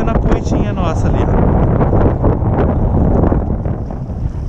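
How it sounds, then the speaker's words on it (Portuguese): Strong wind of about 25 km/h buffets the microphone of a small fishing boat held facing the waves on the Tietê river, a loud roaring rush with water slapping beneath and someone talking over it. "Vento muito forte."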